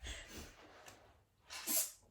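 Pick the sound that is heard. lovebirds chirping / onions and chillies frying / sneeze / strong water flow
sneeze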